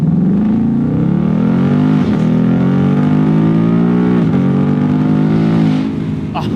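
A 2020 Ford Mustang GT convertible accelerates hard, its V8 roaring close and loud with engine pitch climbing through gear changes, briefly dipping, then easing off at the end.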